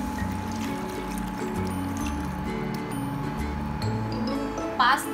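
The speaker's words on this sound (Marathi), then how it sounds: "पाणी घालते" Water poured into a pan of broccoli with sautéed onion and garlic, a soft continuous pour and trickle beneath steady background hum, with a brief clink near the end.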